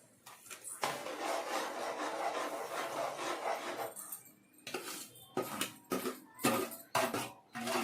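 Semolina poured into hot ghee in a pan and stirred, a gritty scraping and rubbing of a spoon against the metal, first as a steady rasp, then in short separate strokes.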